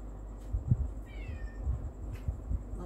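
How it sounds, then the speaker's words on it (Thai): A cat meows once in a short rising-and-falling call, heard faintly at the middle of a quiet indoor mealtime scene with soft low background noise. "น้องแมวก็ร้อง"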